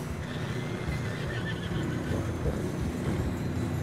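Horses neigh and walk in the video game Red Dead Redemption 2, a whinny rising over a dense, steady bed of hoof and ambient noise at moderate level.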